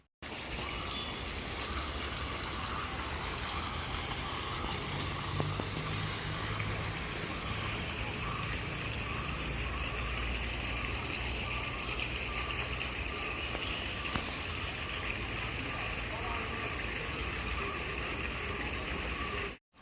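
Water flows steadily into a fish pond at Kallarkutty, a continuous broad rushing and splashing that holds at an even, fairly loud level for the whole stretch.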